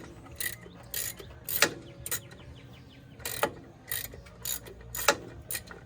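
A ratchet wrench with a 19 mm socket tightening a drive puller into a snowmobile clutch, giving a series of quick, close clicking bursts in an irregular rhythm with short pauses between strokes.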